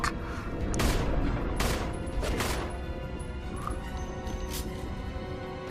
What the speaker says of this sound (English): Why wouldn't I take the goddamn rocket launcher? I love how I still had to fucking reload it.